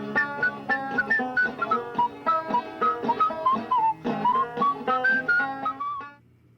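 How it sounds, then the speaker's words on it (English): A man whistles a lively folk melody, clear pitched notes in quick phrases, close and alone, ending after about six seconds. "he was whistling a tune"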